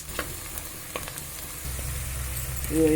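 Foxtail millet with turmeric fries in a pan, giving a soft, steady sizzle with light scraping and stirring clicks that grow a little louder near the end.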